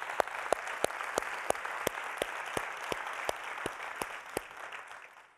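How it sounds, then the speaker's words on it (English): Steady audience applause at a 2019 social-emotional learning conference on equity, a dense even wash of clapping with no voices, fading slightly toward the end. "Let's give them a round of applause."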